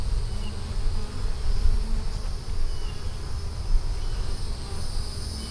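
Honeybees at an open hive frame keep up a dense, continuous buzz. The swarm sounds close and fairly loud, with no talking over it.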